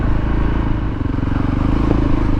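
A motorcycle ridden along a green lane near Thetford, its engine droning loud and close with a steady rasping throb and slight rises in revs.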